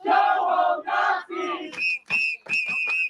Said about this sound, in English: Oh, the whistles.